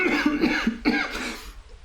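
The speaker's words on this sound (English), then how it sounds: "And she coughs." A woman coughs several times in a quick run, then gives one more harsh cough after a short pause, close and moderately loud, with a raspy, choking quality.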